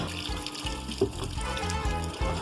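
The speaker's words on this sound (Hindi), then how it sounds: "मैं आज थोड़ा सा जो है धो रही हूँ कपड़े" Clothes being hand-washed under running tap water on a laundry day at home, with a steady splashing, trickling stream and a few louder sloshes, close and continuous with no talk.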